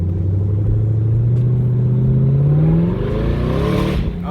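A turbocharged Chevy S10 pickup accelerates hard, its engine note climbing steadily in pitch as it revs up, loud and close, then easing off near the end.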